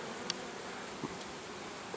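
A steady, faint buzzing hum of many honey bees at their hives fills the air continuously, with an occasional insect passing closer. No voices.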